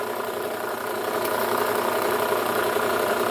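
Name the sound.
belt grinder sharpening KitchenAid knives, 120 grit belt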